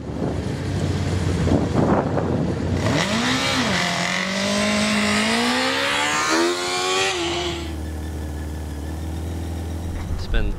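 Drexel Racing Team's student-built hybrid race car drives past. The engine note climbs steadily in pitch and loudness for several seconds, then cuts off and falls back to a low hum, with brief voices at the start.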